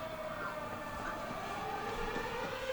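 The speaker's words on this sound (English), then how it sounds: "That is such a freaky sound. I hate it. The air raid sirens." Air raid sirens in the film The Mist, a steady droning wail held under a dense, noisy background.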